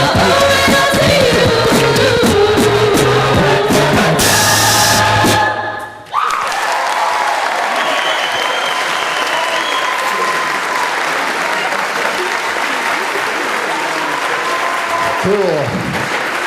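Loud, sustained audience applause fills the space, dense clapping from a large crowd that follows the end of music and continues steadily.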